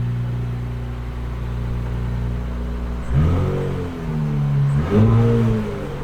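A 2024 Nissan Z with an axle-back exhaust idles with a low rumble, then revs loudly twice in quick bursts, each rise and fall clearly audible up close.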